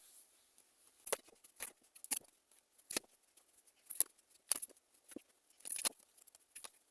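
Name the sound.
tarot cards being drawn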